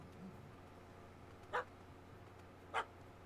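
A dog in The Witcher 3 gives two short, distinct barks about a second apart, faint against a quiet game ambience with no talking.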